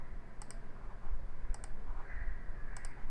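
Computer mouse clicking during software work, three quick double-clicks spaced about a second apart, crisp and close over a low steady room hum, no talking.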